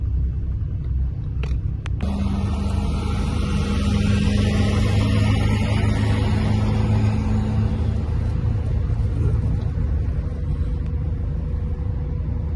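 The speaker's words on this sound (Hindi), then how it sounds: "बड़े जोर से चलती है, पहले गियर में ही ना।" A car climbing the steep mountain road toward Babusar Top in first gear: a loud, sustained low engine drone with a steady high-revving hum heard from inside the cabin, without talking.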